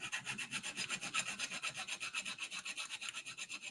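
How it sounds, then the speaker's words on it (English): Steady, rhythmic rasping of sandpaper worked back and forth over a lightsaber part to scrub away Sharpie marker, about a dozen even strokes close to the microphone with no talking. "That's why I keep sanding this. That's why I keep hitting this area. I'm trying to get rid of the Sharpie marker."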